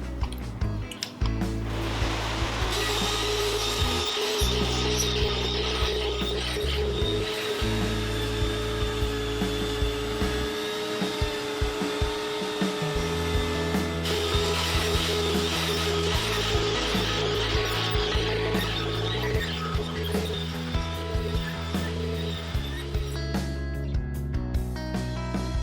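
A router planer cutting a second pass over wood after the bit is lowered about 2 mm, a loud continuous motor whine with a shifting, grinding cutting tone, close and sustained, with a brief rougher patch midway.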